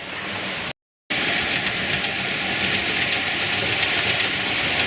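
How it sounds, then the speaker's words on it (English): Model trains rattle continuously along a track with a steady clattering rumble, broken by a brief moment of silence near the start. "I'm running these trains today"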